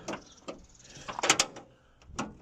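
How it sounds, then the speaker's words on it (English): Door lock on a Talbot Express van being worked and locking, heard close up as a few short mechanical clunks and rattles, then a sharper pair of metallic clicks as it catches, followed by a final soft knock. "I managed to get the door lock working"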